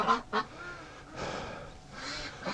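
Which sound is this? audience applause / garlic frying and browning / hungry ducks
hungry ducks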